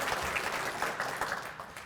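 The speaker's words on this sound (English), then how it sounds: "A little applause is okay." Clapping from guests at the 28th Annual Human Rights Awards ceremony, a short, fairly close burst of many hands with uneven individual claps audible, no talking.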